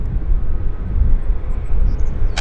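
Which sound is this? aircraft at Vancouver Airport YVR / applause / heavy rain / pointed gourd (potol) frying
aircraft at Vancouver Airport YVR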